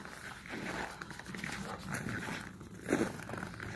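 Dogs move about a garden in rural Russia on a cold morning, panting and shuffling close by, with a sharper bark-like burst near the end over faint outdoor background.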